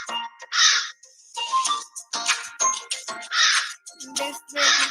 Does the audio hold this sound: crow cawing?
yes